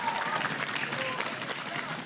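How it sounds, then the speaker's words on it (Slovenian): Steady applause fills the studio at a school quiz show as two contestants are honoured, a dense, even patter of many hands clapping at moderate loudness for about two seconds. "en velik aplavz za Mirjam in Lauro"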